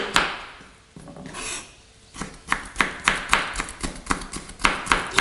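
A knife finely chops celery on a cutting board while raw food is prepared for children. Quiet scraping comes first, then a steady run of about a dozen crisp, close chops.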